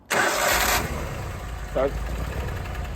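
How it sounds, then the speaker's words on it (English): A small Vanguard engine on a Vermeer SC362 stump cutter cranks and catches with a loud burst, then settles into a steady idle hum; a brief voice cuts in midway. "Engine sounds very, very smooth all across"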